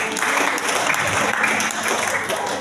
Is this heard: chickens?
no